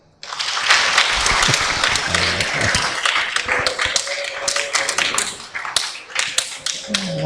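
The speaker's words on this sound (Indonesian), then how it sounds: "Tepuk tangan dah." Audience applause in a religious gathering in Banyuwangi, Indonesia, a dense burst of clapping that rises quickly and continues steadily, fairly loud and close, with scattered sharp claps standing out.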